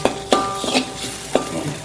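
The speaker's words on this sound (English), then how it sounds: "I'm going to lower the heat to low and continue frying it." Food sizzles steadily in a pan over low heat while a utensil scrapes and taps against it a few times.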